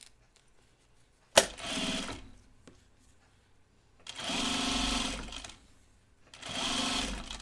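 Domestic sewing machine stitching binding around a quilt corner, running in three short bursts of steady whirring with quiet pauses between and a sharp click before the first burst.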